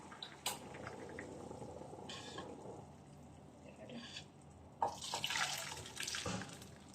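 Water being poured off a cup of instant noodles, a faint trickle of pouring that swells into a louder splashing burst near the end, close and quiet, with no talking.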